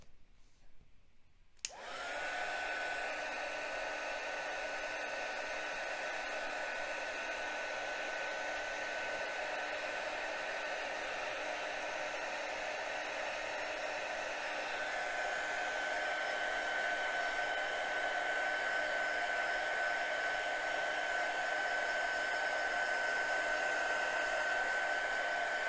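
A hair dryer switches on with a sudden onset and runs continuously for about 24 seconds, blowing air over a watercolor hydrangea painting on paper, a loud, steady whine with a strong tonal hum and no talk.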